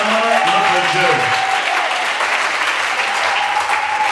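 A church congregation breaks into loud, sustained applause filling the room for several seconds, with a voice speaking over the start of the clapping.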